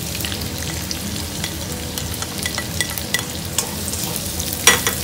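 Onion and garlic sauté in a hot pan, with a constant dense sizzle and crackle, small pops and occasional stirring scrapes and clinks near the end.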